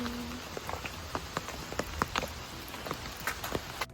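Rain falls outdoors during an outing in Bangalore, making a steady close patter with distinct individual drops ticking on a nearby surface and no voices.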